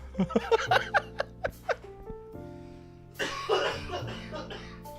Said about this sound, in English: That followed by a cough is not helping at all.